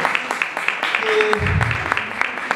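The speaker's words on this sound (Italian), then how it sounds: "prego un applauso per Viale Marcello" Applause at a book presentation in a Naples café, a patter of scattered claps running under a voice that keeps talking, with a low murmur in between.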